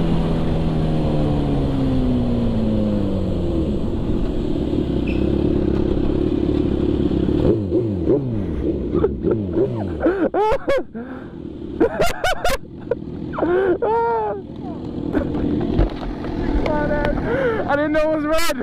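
A Suzuki GSX-R 1000 sport motorcycle is ridden, its engine droning steadily and loud up close, then rising through sharp revving sweeps and gear changes in the second half, with a rider's voice cutting in between.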